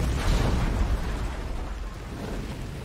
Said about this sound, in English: I think I'd be freaking out a lot harder with a freaking explosion like that.